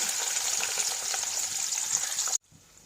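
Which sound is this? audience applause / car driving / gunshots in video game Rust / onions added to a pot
onions added to a pot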